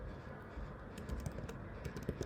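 Faint keyboard typing on a computer while writing code for a Node.js config file, soft irregular keystrokes clustered in short bursts over a steady low background.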